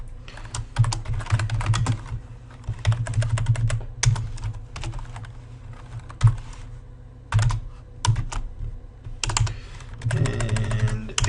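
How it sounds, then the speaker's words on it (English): Someone types on a laptop keyboard at a very small desk, close-up clusters of quick key clicks in bursts separated by short pauses over about eleven seconds, with no talk. "I am typing at an awkward angle because I am using a very small desk"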